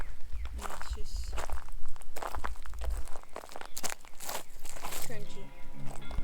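Footsteps crunch across dried, cracked bayou mud at Bayou Bartholomew in Arkansas. Close, irregular crunching steps and crackles run throughout while people talk over them.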